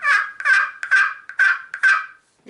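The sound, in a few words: turkey call imitating hens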